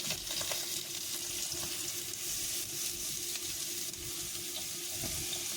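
Chopped bananas frying in hot ghee in a pan, giving a steady, close hiss of sizzling oil with a few soft clinks, with no talking.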